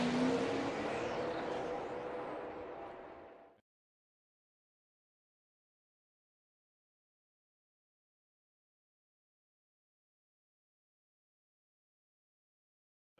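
NASCAR race cars rumble and whir on pit road during a race, a loud, steady engine roar for about three and a half seconds before it cuts off into silence.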